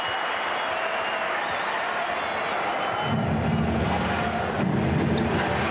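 Basketball arena crowd at the 1993 NBA Finals Game 3, Bulls versus Suns in triple overtime, reacting to Horace Grant, a broad roar of applause that swells louder midway and holds.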